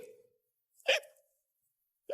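Hiccup sound effect: one sharp, close hiccup stands out in near silence, followed by the start of another at the very end.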